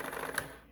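A single sharp click of a key pressed on an adding machine's number keypad, close and quiet, alone with no talk.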